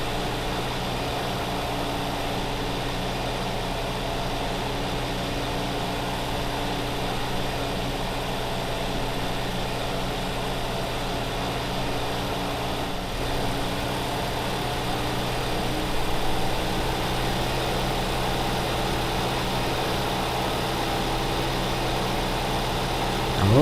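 Tractor engine in Farming Simulator 2015 drives over a bumpy farm track, a steady low drone with a slight rise in loudness near the end, no talk.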